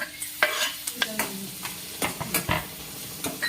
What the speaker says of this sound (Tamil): இஞ்சி பூண்டை போட்டுக்குவோம் பூண்டு இஞ்சியை போட்டுக்குவோம் கொஞ்சம் வதங்கட்டும்